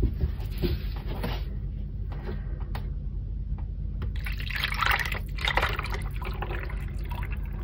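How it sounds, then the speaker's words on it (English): Emulsified lemongrass and poppyseed soap batter is poured off from a container, a soft liquid trickle and splash that swells midway, over a low steady background hum. "And then I shall pour off the portion that I want to use for the top."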